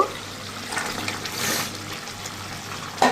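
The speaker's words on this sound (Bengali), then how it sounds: "আলু আগে দিয়ে দিলাম, যেহেতু আলু সিদ্ধ হতে একটু সময় লাগবে।" Freshly cut, washed new potatoes tipped into a pot of water for cooking: soft close sloshing and trickling water, with a brief louder splash or clatter at the very end.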